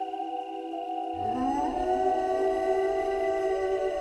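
A wolf howls in a long, rising and then sustained call that sets in after a quiet, droning musical bed and swells over it, steady and fairly loud to the end.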